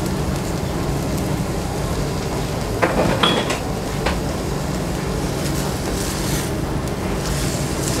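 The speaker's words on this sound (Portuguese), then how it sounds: "E vamos refogando assim." Pork sizzling and sautéing in a pan as a steady, close hiss, with a few brief clinks and scrapes of utensils against the pan in the middle.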